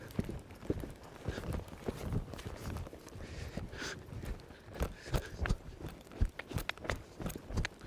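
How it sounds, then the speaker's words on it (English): Horse hooves clip-clop in a steady loping rhythm under a rider during a riding foundation session, close and moderately loud with a faint whinny-like hint, no talk over it. "We're going to see if I can get him to lope to the left."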